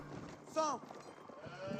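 A single short sheep bleat from the strategy game Age of Empires 4, a brief wavering call that rises over quieter game ambience while a commentator talks.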